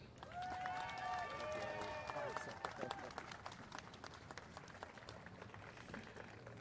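An audience at a Washington DC travel rally applauds as the mayor comes up. A loud, dense round of clapping and cheering, with a whistle-like tone near the start, then a slow, slight fade.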